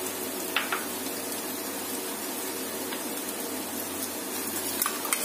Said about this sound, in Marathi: आपला चिरलेला टोमॅटो आपण टाकायचा आहे आणि कांद्याबरोबर थोडा भाजून घ्यायचा